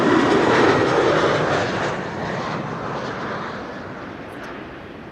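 A Delta Air Lines Airbus A330neo jet at Amsterdam Schiphol airport gives a loud, broad engine roar with no voices, strongest at first and slowly fading as it passes.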